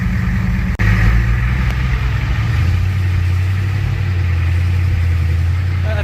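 A grandfather's car with a 383 V8 idles close by after a jump-start, a loud steady low burble that briefly stumbles near the start, then settles into an even, throaty rumble with no talking.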